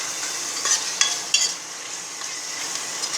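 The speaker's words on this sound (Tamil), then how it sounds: "இப்போ வந்து இஞ்சி பூண்டு பேஸ்ட்டை போடுவோம்." Ginger garlic paste frying with onions in hot oil for a Tamil salted-meat curry, a steady close sizzle broken by a few sharp scraping stirs in the first half, no voices.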